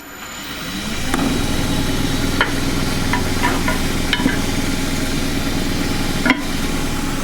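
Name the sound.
wood lathe turning, gouge shaping a gidgee wood bowl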